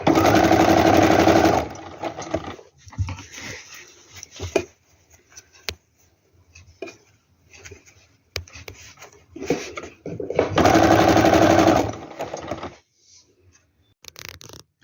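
A sewing machine stitches through a jacket, its pocket and a fabric strip held together, running in loud bursts of steady whirring with quieter pauses and handling noise between runs; no one speaks.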